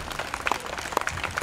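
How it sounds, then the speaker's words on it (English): A community audience at a National Night Out event applauds first responders, a short burst of scattered hand claps at moderate distance with a few sharper individual claps standing out. "Let's give them a big round of applause for the first responders."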